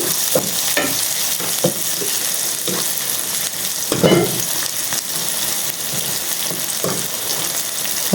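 Paneer curry ingredients sautéing until golden in a pan, with a steady sizzle under repeated scraping stirs of a spoon at a close, moderate level and no voices.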